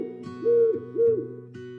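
Two soft, tonal hoots like an owl's call from a cartoon owl, evenly spaced over a sustained musical background.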